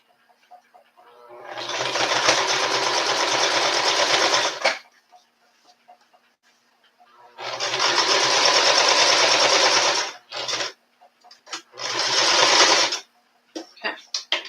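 A sewing machine stitches a dress lining, with two long loud runs of rapid whirring needle strokes and several shorter bursts, separated by quiet pauses.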